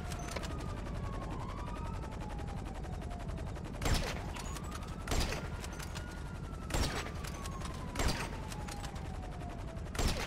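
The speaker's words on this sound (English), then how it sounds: "Sniper taking shots." Sniper gunshots in GTA 5 crack out as about five sharp, isolated reports spaced a second or more apart, fairly distant, over a steady droning engine-like hum with a slowly sliding tone.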